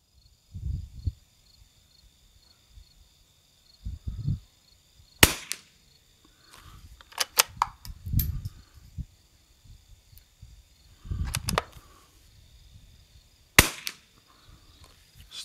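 Rimfire sporter rifle shots at a target during a windy rifle match, sharp sudden cracks spaced several seconds apart, with low wind rumble and quiet handling noises between them.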